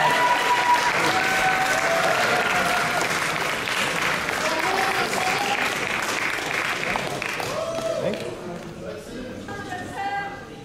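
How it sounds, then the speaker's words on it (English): An audience at the NABBA Universe 2022 bodybuilding contest gives loud sustained applause with cheering, tapering off toward the end as voices come through. "give these ladies a massive round of applause"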